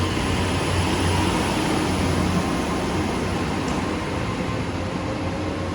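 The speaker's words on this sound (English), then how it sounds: "platform 1 over there, where that train's departing out from" Train pulling away from a station platform on a British rail line, a loud continuous rumble and roar with a faint high whine, steady throughout with no talk.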